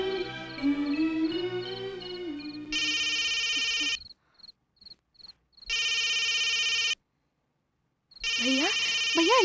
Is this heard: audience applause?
no